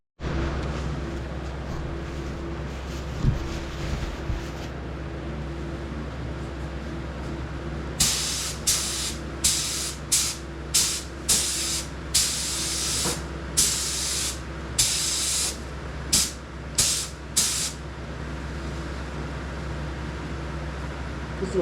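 Short bursts of spray paint hiss in a rapid irregular series onto a 1969 Dodge Charger General Lee, applied as a light coat over a steady low background hum, with no talk.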